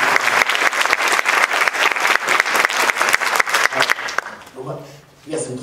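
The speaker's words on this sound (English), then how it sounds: "a round of applause" An audience at a college conversation event claps in a rhythmic, fairly close burst that fades out, followed by a speaking voice.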